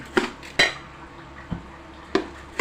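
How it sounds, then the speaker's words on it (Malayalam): Four or five sharp scraping clinks of a utensil against a pan as rice is roasted for chicken biryani, spaced irregularly, with a faint low background between them. "അരിയും കൂടി ഇട്ടു ഇത് നന്നായിട്ട് അങ്ങോട്ട് വറുത്തെടുക്കാം"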